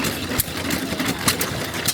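A 1921 Witt 2 horsepower headless hit-and-miss engine drives a water pump at a county fair, running steadily with a few sharper firing beats over a continuous mechanical rumble. No one speaks.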